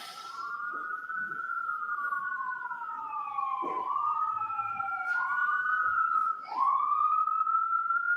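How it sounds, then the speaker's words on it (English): Emergency vehicle sirens pass outside a courtroom, a clear wailing tone sweeping up and down repeatedly, moderately distant but steady across eight seconds, with a second siren layering in toward the end and no talk. "wait until the sirens pass"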